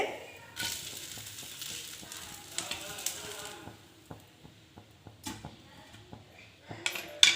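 Rava dosa fries on a hot pan after being flipped, with a soft sizzle and scattered light clicks and scrapes of a spatula, close up and fading toward quieter crackles.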